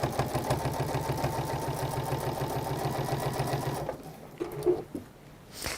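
A sewing machine stitching quilt binding runs in a steady fast mechanical whir with rhythmic needle clatter for about four seconds, then stops, leaving quieter handling bumps and rustles nearby.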